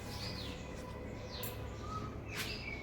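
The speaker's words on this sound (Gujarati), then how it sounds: "કોયલ બોલી રહી છે." Outdoors on a morning, an Asian koel calls faintly in the distance, giving a few separate rising whistles over a quiet background.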